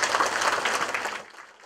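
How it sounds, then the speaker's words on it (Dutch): Applause from an audience at a Dutch prison officers' corps promotion ceremony, honoring a minister: dense, steady clapping that holds for over a second, then thins and fades toward the end. "Ik denk niet dat het te veel gevraagd is om u nogmaals een warm applaus te vragen voor de minister"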